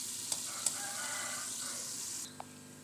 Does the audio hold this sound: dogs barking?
no